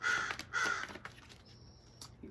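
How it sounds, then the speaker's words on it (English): A crow in a tree gives two loud, harsh caws in quick succession, followed by fainter trailing calls and a thin sustained tone, heard close and clear with no talking over it. "So there's a crow in the tree."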